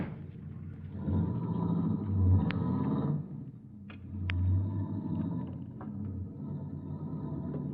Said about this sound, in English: force yourself to relax as Joe comes back and climbs into the car